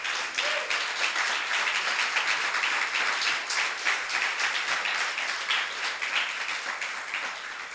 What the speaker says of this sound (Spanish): Denle un aplauso al Señor, amados hermanos.